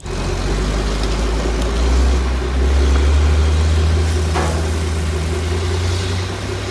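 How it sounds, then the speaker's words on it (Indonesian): A toy tanker truck plays a low, steady engine rumble like a large truck idling, continuous and fairly loud with faint background noise. "Ada truk tangki teman-teman."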